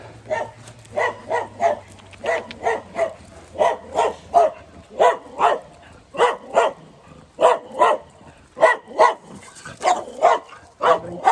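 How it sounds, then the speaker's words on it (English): A guard dog at a house in the Kiso Valley, Japan, barks repeatedly and loudly nearby, in steady paired bursts over about eleven seconds with short gaps between them. "Can you hear him? That dog scared the life out of me on the way in."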